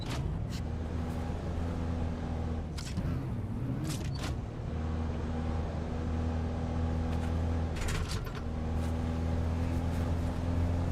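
An all-wheel-turning ground vehicle in the Dune Awakening video game drives steadily, its low engine drone and rumble constant throughout, with a few brief higher bursts layered over it.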